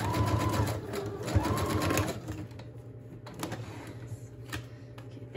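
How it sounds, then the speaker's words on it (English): Sewing machine stitching a paper signature onto the flap of a journal envelope, a steady mechanical whirr running for about two seconds, pausing, then starting again before quieter handling noises take over. "I'm going to sew it on here first."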